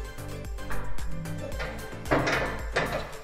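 A fiber optic splice tray slides back into the drawer of a patch panel in a rack cabinet, giving a series of close knocks and scraping slides over a steady background hum.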